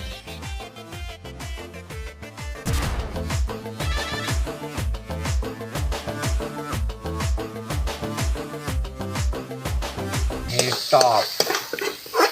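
A tomato dish stirred and fried in a pan, with rhythmic scraping strokes over a steady sizzle, loud and close, ending in a burst of hot frying.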